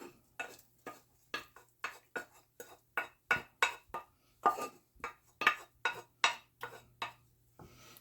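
Garlic and onions stirred into a butter chicken sauce in a pot: a steady run of about twenty rhythmic spoon scrapes and clacks against the pan, close and moderately loud, with a faint simmer underneath.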